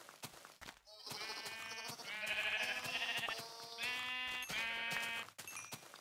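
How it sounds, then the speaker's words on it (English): Sheep bleating in Minecraft, several loud, close, wavering synthetic bleats in quick succession that overlap, with brief quiet gaps and faint game sounds between them. "first I want to kill these sheep."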